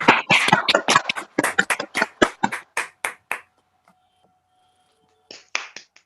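Sparse, separate hand claps from a few unmuted participants in an online talk audience, a quick irregular run of about fifteen sharp claps that stops, then a short burst of a few more after a pause.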